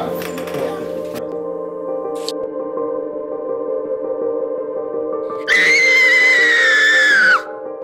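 A monster's drawn-out, high-pitched shriek rings out loudly for about two seconds near the end, over a steady tonal hum and a few earlier scattered sounds.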